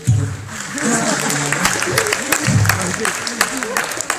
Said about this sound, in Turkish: Büyük bir alkış alalım.